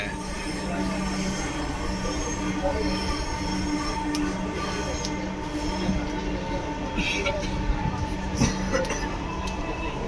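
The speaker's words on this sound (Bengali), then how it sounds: "রেলগাড়ি, মেট্রো। Metro rail." Inside a Dhaka metro rail car near Uttara, the train rumbles steadily with a high wheel squeal and occasional clinks, carrying on continuously under soft background voices.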